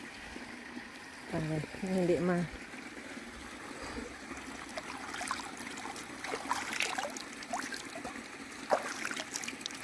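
Hands splash and dribble in clear swimming-pool water at an outdoor pool in Las Lomas, Cádiz, with light, irregular trickles and small splashes close by, while a voice speaks briefly over them.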